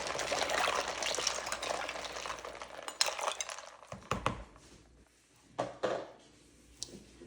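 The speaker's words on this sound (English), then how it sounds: "Then we just wanna give all of this a stir to make sure it's nicely mixed up" Ice being stirred into a brine mixture, with scraping and clinking rattles that are dense at first, then thin out into a few scattered knocks and swishes.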